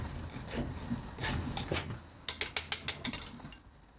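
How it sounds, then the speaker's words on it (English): Lemon zest being finely grated on a grater: a run of sharp, rhythmic scraping strokes, close and fairly quiet, speeding into quick bright rasps toward the end. "All we're going to do is just finely grate the zest."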